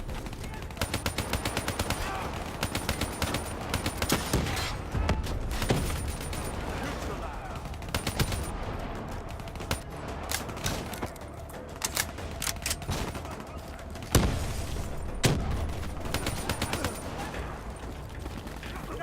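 Heavy, continuous gunfire in Call of Duty: Black Ops 3, rapid automatic bursts with sharp single shots mixed in, loud and close throughout, with a voice talking over the shooting.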